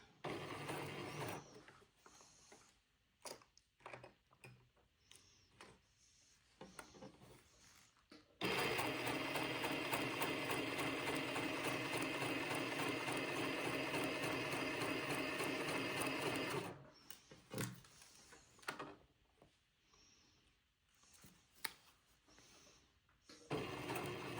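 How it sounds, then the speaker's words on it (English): A sewing machine stitching a facing onto a dress runs steadily for several seconds, a loud even mechanical whir framed by quieter handling clicks and fabric shuffling before and after. "this is going to take me a minute to sew this up to the top"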